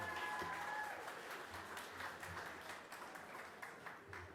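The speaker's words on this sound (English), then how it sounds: "Another round of applause, please, for the Witches." Crowd at a hackathon awards night applauding a winning team, a steady wash of clapping that is fairly quiet and distant, with some faint voices mixed in.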